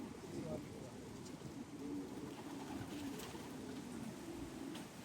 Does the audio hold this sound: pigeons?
yes